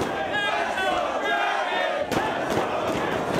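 Wrestling crowd at a Ring of Honor anniversary match roaring and chanting loudly and continuously, a dense wall of cheering with a brief sharp impact near the end.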